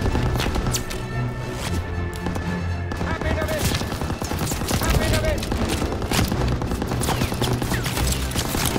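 Call of Duty: WWII battle gunfire, dense rapid bursts of rifle and machine-gun shots with sharp cracks packed throughout, loud and continuous, with shouting voices mixed under the firing.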